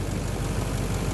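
A Duramax LMM diesel engine with a suspected knock runs at a steady idle, close and fairly loud, with a continuous low rumble and a dense, even clatter and no voices.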